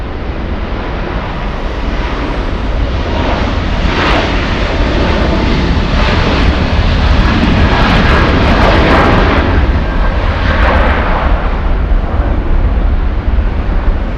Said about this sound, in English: Let's go over to the 777 on the move.